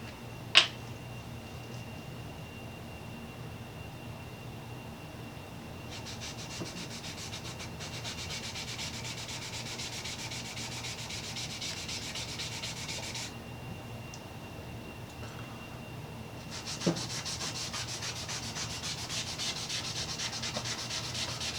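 Rag rubbing Angelus light brown leather dye onto a wooden luthier workpiece, a steady soft scrubbing texture with faster strokes in bursts, close and alone, plus a sharp tap near the start and one later.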